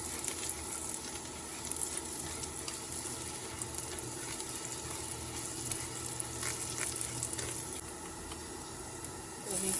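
Garlic fries in a pan with a steady, fairly quiet sizzle that holds evenly throughout, with faint speech in the background.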